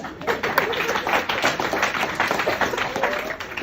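Audience applause at a live comedy sketch show, a dense, steady patter of many hands clapping at moderate volume for several seconds.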